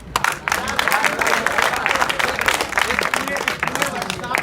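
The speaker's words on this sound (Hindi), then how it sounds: "गब्बर सिंह के लिए ताली बजाइए सब लोग मिलके।" A roomful of students at an Azamgarh inter college claps in unison for a classmate, a full, busy burst of applause with some cheering and chatter underneath, steady from start to finish.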